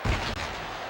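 A single hockey wrist shot in the video game NHL FaceOff 2003, a sharp thump at the start followed by a sustained arena crowd roar.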